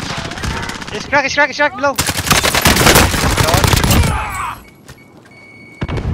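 Gunfire in the Call of Duty Warzone video game, with loud rapid bursts and dense volleys of shots over about four seconds that then fade to quieter background, while a player talks briefly over the action.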